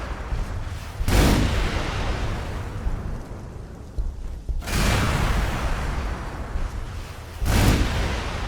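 Heavy weapons firing at Baneblade super-heavy tanks in the Warhammer 40,000 Gladius strategy game: three loud, booming blasts spaced a few seconds apart, each trailing into a rumbling, noisy decay, with no voices.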